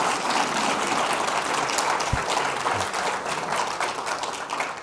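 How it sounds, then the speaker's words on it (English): Audience applause for City Attorney Goyke at a Marquette Law event, a steady dense wash of many hands clapping that holds at an even level throughout. "Can we give a City Attorney Goyke a round of applause?"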